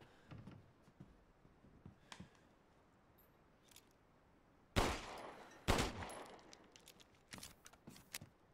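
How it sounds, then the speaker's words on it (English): Gunshots in Resident Evil Village, sharp isolated cracks spaced irregularly, with two louder blasts close together midway and smaller clattering impacts around them. "Don't mind me, I'm just shooting your stuff in your house."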